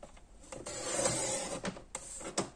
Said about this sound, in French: Je découpe tout du long, je me servirai des chutes pour faire la déco.